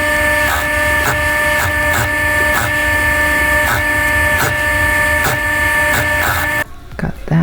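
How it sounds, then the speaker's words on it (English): A sewing machine stitches a half-inch hem on denim, running loud and steady with a rhythmic mechanical hum and regular clicking ticks, then stopping abruptly near the end. "We're stitching this hem allowance at 1/2 inch."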